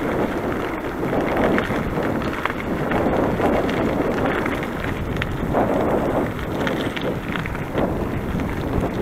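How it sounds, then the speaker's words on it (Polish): Steady wind gusts rush and buffet the microphone continuously, a broad roaring noise with no voices. "Bo wiatr wieje."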